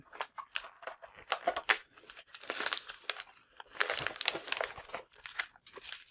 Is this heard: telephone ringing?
no